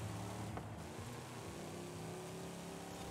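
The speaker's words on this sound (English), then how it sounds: "It's a noisy supercharger too." Supercharged Pontiac engine in Forza Horizon 5, a steady car engine drone with a faint whine, held at a constant pitch and moderately loud throughout, with no talking.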